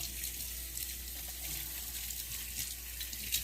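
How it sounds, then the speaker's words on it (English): A kitchen tap runs steadily into a sink while hands are washed beneath it, a close, continuous hiss of flowing water with slight splashing changes and no talking. "Wash my hands again. I'm always by my sink"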